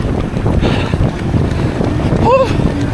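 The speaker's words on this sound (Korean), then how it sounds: "바람이 너무 심하다." Strong cold wind roars across the microphone during a full marathon in Daegu, heavy buffeting gusts with footsteps and crowd noise beneath.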